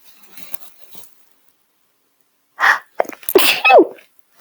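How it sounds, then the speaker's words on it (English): A single sharp sneeze bursts out close by after a stretch of near silence, followed by a brief breathy exhale. "I'm going to sneeze again"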